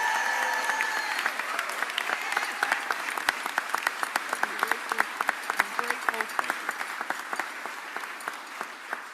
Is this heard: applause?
yes